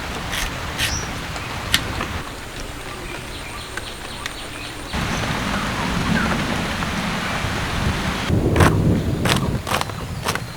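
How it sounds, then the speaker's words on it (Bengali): Steady rain of a pre-monsoon storm falls outdoors as a dense, continuous patter that thickens partway through, with a few sharp drops or knocks standing out. "আজকে কিন্তু আমাদের এখানে সকাল থেকেই বৃষ্টি হচ্ছে মাঝখানে একটু ফাঁকা দিয়েছিল আবার বৃষ্টি শুরু হয়েছে"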